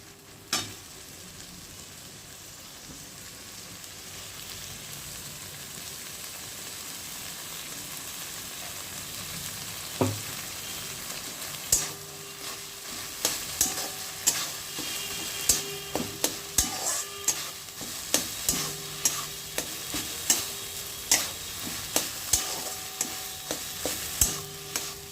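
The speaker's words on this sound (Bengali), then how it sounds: "তেলের সঙ্গে নেড়ে নেড়ে কষাতে হবে" Mashed yardlong bean paste stir-fried in oil, a steady low sizzle with scraping spatula strokes that grow into a regular rhythm of sharp clicks and knocks against the pan in the second half, close and fairly loud, no talking.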